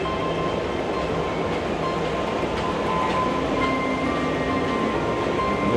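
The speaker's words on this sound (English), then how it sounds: "The monorail." EPCOT monorail passing by, a steady rumbling rush of the train going past, moderately loud and continuous, heard from a bench in hot sun with no talk.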